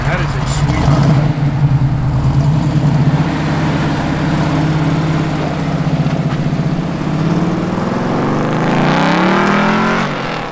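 The engine of a 1969 Chevrolet Camaro RS/Z28 rumbles loud and close, holding a deep idle before climbing in a rising rev near the end, while voices talk over it.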